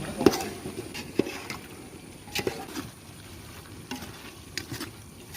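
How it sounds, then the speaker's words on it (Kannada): A spoon stirs and scrapes country chicken through a thick masala in a pan for biryani, with soft wet sizzling and a few sharp clinks at irregular intervals. "ಚೆನ್ನಾಗಿ ಮಿಕ್ಸ್ ಮಾಡ್ತೇನೆ ಈ ಮಸಾಲದೊಟ್ಟಿಗೆ"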